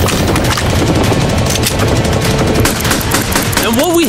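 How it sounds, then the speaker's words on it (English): Rapid light machine gun fire pours continuously into a Lamborghini, a dense, loud, unbroken rattle of shots with impacts, and a rising whistle-like tone creeps in near the end. "They just brought out the LMG."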